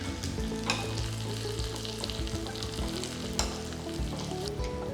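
Curry leaves and torn dried red chillies sizzle loudly in hot oil for a lentil curry, a dense, continuous crackle with scattered pops and stirring scrapes, up close and with no talking.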